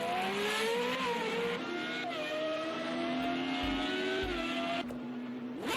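An FR35 race car at night on the back straightaway of the Long Beach street circuit, its engine droning at a distance with rising and falling pitch as it runs through the gears, heard alone without voices.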